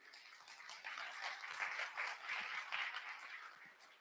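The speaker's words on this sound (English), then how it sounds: "Let's give them a round of applause." A summit audience claps for its speakers, a soft, fairly even patter of many hands that swells after the first second and holds at a moderate, slightly distant level.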